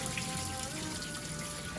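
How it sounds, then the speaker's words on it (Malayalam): Water being poured off boiled tapioca, a steady, continuous trickle and splash draining in a kitchen, fairly faint and close, with no talk. "ഇങ്ങനെ തിളപ്പിച്ച് വെള്ളം മാറ്റണം"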